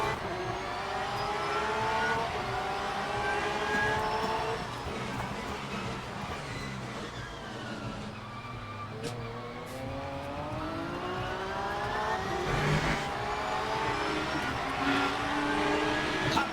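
A Lamborghini race car engine in the racing game Le Mans Ultimate at Spa in the rain drones and revs continuously, pitch rising and falling through gear changes as it accelerates, loud and steady throughout.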